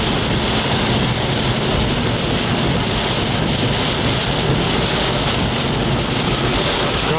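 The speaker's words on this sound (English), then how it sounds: "But again, the rain appears to have intensified." Heavy rain drums steadily on a vehicle during a drive, a loud, dense wash of noise that builds in intensity with no gaps for the full stretch.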